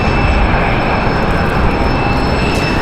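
A JetBlue airliner bound for New York JFK taking off at Raleigh-Durham airport, a loud, dense, continuous engine roar filling the brief stretch, steady and close, with no talk.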